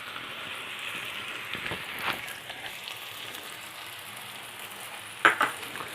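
Chopped garlic hits a pan of capsicum frying for paneer rolls, giving a soft continuous sizzle with scattered stirring taps and a couple of sharper knocks near the end, without speech.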